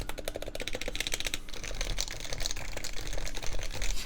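Rapid, steady typing on a stock HHKB keyboard with Topre keycaps, in good shape but slightly rattly, giving a dense stream of close, muffled clacks with no voices.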